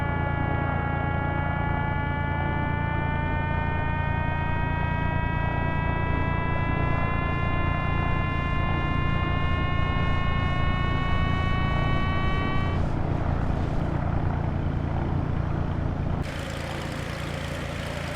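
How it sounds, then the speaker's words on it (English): A glider's variometer in Microsoft Flight Simulator X, climbing just after a tow-plane launch, sounds a continuous electronic tone that rises slowly in pitch over a steady wind and engine drone, then cuts off, leaving only the drone. "That beeping you're hearing is the variometer."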